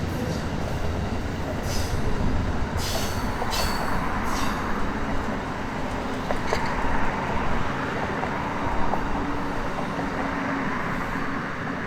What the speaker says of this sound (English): we see Genesis number 101 with the Pittsburgh-bound Pennsylvanian